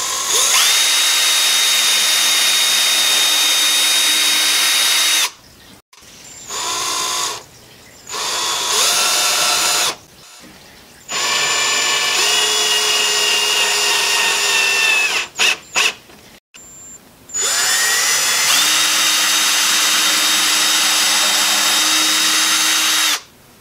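A power drill drives screws into the wooden arm supports of an Adirondack chair in several close, loud bursts of whining motor, some long and some short, separated by brief silences and with no talking.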